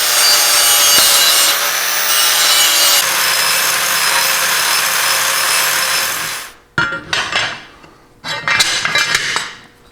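A metal Toyota lift kit part being ground down with a power grinder, a loud continuous harsh rasp that cuts off, then returns in short choppy bursts.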